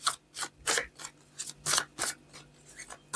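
Tarot cards pulled one by one from a deck, a run of about a dozen crisp, close card swipes and slides in an irregular rhythm, with no talk.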